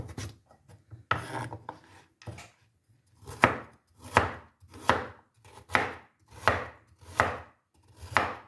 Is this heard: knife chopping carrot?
yes